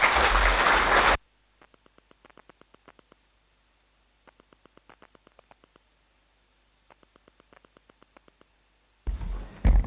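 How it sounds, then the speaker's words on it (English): A conference audience claps at the close of a five-day event: a dense burst of applause opens the moment, then fades to sparse faint ticking before a second loud round of clapping returns at the end. "Give yourselves a round of applause."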